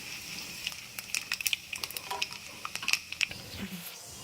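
Cashews and ginger frying in oil in a pan for Andhra-style upma, with soft crackles and small pops scattered unevenly over a faint sizzling bed, close and fairly quiet.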